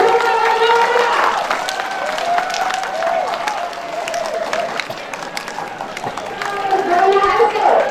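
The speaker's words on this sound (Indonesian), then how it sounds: "Tepuk tangan yang meriah." A crowd gives lively, sustained applause for a national-level competition winner, with cheering and loud chatter mixed in, all continuous and close.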